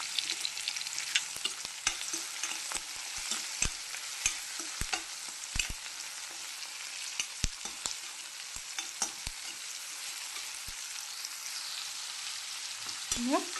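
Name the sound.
tomato and onion frying in a pan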